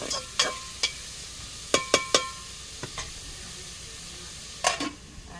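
Onions and okra frying in a pan for a fish and okra curry give a soft sizzle close by, punctuated by irregular sharp spoon taps and scrapes against the pan.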